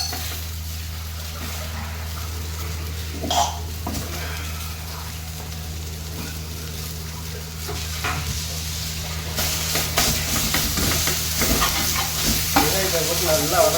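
Onions sauté in a pan for a black chickpea kurma, with a constant low sizzle, occasional knocks and scrapes of the spoon, and a steady hum beneath, growing louder and more active toward the end.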